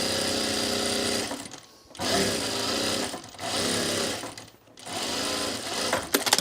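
Sewing machine running a single-needle seam to set a sleeve into an Azores dress, loud and steady in three long bursts with brief pauses between them.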